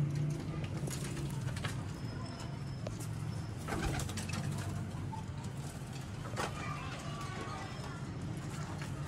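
Sialkoti pigeons coo softly and repeatedly close by, with occasional chirps and a brief wing flutter, while people talk over them.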